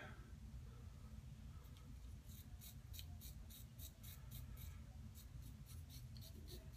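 A plastic safety razor cuts through a beard while shaving. Its rapid, faint crackling strokes come in a regular series close to the microphone over a low hum.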